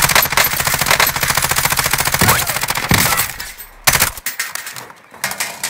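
Automatic gunfire in Call of Duty: Warzone, rapid close bursts of shots rattling for several seconds, then a pause and a few scattered shorter volleys, loud and without talk.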